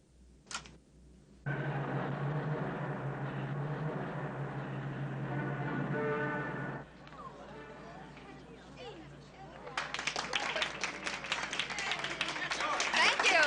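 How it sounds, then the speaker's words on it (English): An audience breaks into applause near the end, a burst of many hands clapping that swells and keeps building, after a stretch of talk and background noise. "Oh, how I love that applause."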